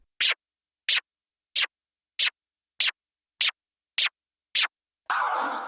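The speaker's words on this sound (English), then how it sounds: "And that's the stab scratch." Eight sharp, evenly spaced record-scratch stabs, each short and bright, followed by a sustained burst of louder, rougher scratching at the end.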